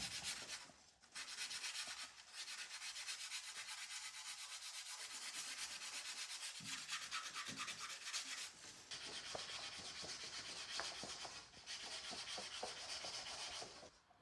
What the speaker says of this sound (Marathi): आता आपण एक साईड घासणार आहे आणि आपण वरती लावणार आहे.